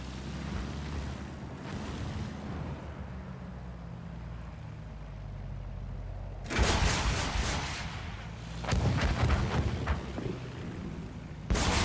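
Rockets fire from a First World War aircraft at ground targets in Battlefield 1, a couple of loud bursts of launches and blasts breaking over a steady engine and wind drone.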